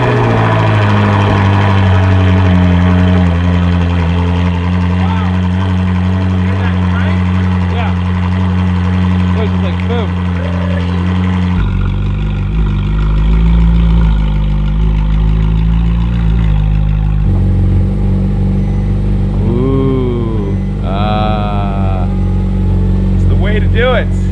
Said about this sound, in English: we're just going to start it up and let it sit there and idle for a little while